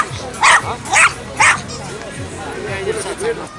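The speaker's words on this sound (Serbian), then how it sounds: "Da, ali on previše laje." A dog at a national dog show barks loudly three times in quick succession, close by, while people talk in the background.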